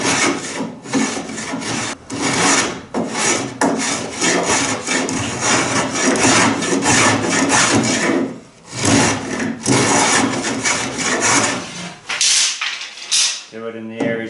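A spokeshave scrapes along the edges of a wooden dinghy frame, taking off material in repeated rasping strokes with short pauses between passes, close and fairly loud.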